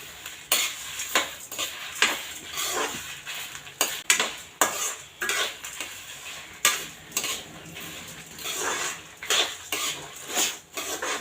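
Fenugreek, cumin and dried red chillies dry roasting in a pan, with repeated metallic scrapes and clinks of a ladle stirring in an irregular rhythm over a faint crackle, close up and without voices.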